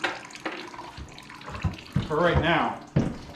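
Water gushes and splashes from a leaking household plumbing line during a repair, a close, steady rush with bubbling swells, while someone talks briefly over it.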